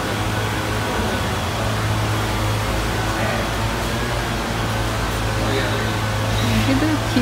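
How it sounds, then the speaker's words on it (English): A leaf blower runs in a Home Depot garden center in the morning, a steady droning whoosh with a low mechanical hum that fills the whole stretch without letting up. "so they're using the blower."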